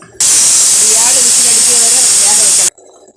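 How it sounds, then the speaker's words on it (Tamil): A mixer grinder jar grinds roasted spice masala, a loud, close, continuous roaring whir lasting about two and a half seconds that starts and stops abruptly. "மிக்சி ஜாரில் சேர்த்து அரைக்கணும்"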